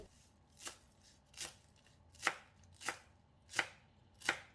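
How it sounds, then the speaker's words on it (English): A knife chops parsley roughly on a cutting board for a Thai chicken feet salad, giving six distinct, fairly quiet thuds at an uneven rhythm, the later strikes a bit sharper. "And cut the parsley roughly."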